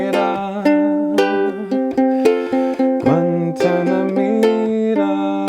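Ukulele strums a Cuban-style song at full speed, with bright, clear chords in a steady rhythmic pattern, loud and close, heard alone without talking.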